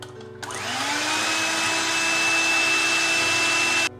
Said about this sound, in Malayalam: കണ്ടൻസ്ഡ് മിൽക്ക് ഒഴിച്ചിട്ട് അതും ഒന്ന് ബീറ്റ് ചെയ്ത് എടുക്കുന്നുണ്ട്